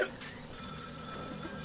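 A telephone rings in the game Find Yourself, a brief faint electronic trill at the start, quiet under a low background hum.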